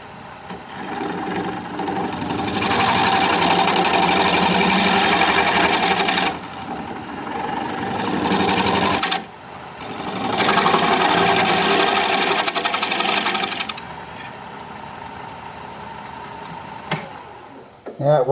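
A wood lathe spins a piece of wood with bug holes while a tool cuts it, giving a loud, steady whirring drone in long bursts separated by brief pauses.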